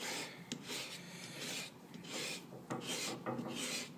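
A rasp files down a plaster carving, giving repeated rough scraping strokes in an uneven rhythm, close and fairly loud with short pauses between passes.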